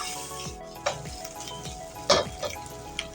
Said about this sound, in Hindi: इसको बस इतना ही फ्राई करेंगे कि हमारे जो मसाले हमने ड्राई डाले हैं ये थोड़े से भुन जाए